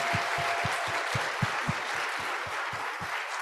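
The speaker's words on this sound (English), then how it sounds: "So now we can clap." Applause from an audience at a youth community event, a steady patter of clapping with distinct individual claps standing out near the mic, lasting a few seconds without any voices.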